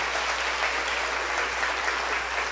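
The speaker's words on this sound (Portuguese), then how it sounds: "Aplauda mais forte." Church congregation applauding during a Portuguese-language service, a steady dense wash of many hands clapping together, sustained and even throughout with no voices standing out.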